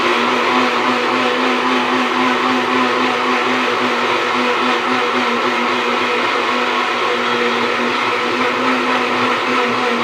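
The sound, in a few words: mixer grinder blending mango juice with sugar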